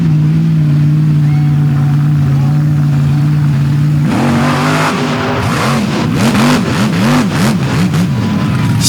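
A garden tractor pulling machine originally built by Jack Coburna runs on the pull track at St. Ignace. Its engine holds a steady loud drone, then revs up and surges in rising, wavering bursts, with voices heard over it.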